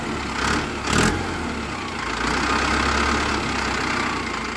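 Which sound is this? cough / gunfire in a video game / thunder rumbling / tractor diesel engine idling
tractor diesel engine idling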